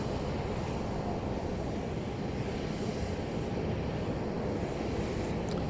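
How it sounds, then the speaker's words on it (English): A Southwest Boeing 737-700 arriving at Dallas Love Field, a steady, fairly faint broadband engine roar heard from a distance, holding constant throughout without voices. "Here comes flight 48, arriving from Houston, Texas, Houston Hobby Airport."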